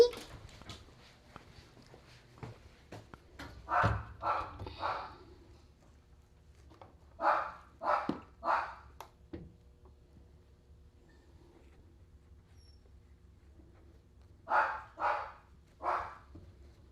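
A dog at a grooming salon barks and whimpers in three short clusters of yelps, fairly close in a quiet room, with faint soft whines between the outbursts.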